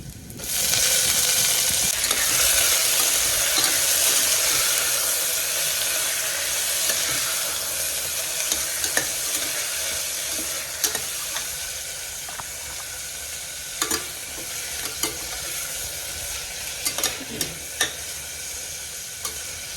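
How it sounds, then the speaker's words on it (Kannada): Green peas frying with onion in a pan make a steady, loud sizzle throughout, with occasional clinks and scrapes of stirring toward the end; no voices. "ಈಗ ನಾನು ಅದನ್ನು ಬಟಾಣಿ ಹಾಕ್ಕೊಂಡು ಫ್ರೈ ಮಾಡ್ಕೊತೀನಿ."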